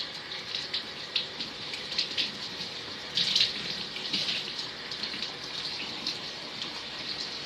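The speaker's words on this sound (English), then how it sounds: "Let's get this warm water going." Warm water runs steadily from a kitchen tap, a continuous even splashing hiss with brief louder surges, heard alone with no voices.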